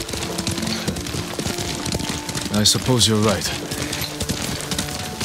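Horse hooves clop in a steady riding rhythm in the video game Ghost of Tsushima, running under a conversation between characters with a continuous ambient bed.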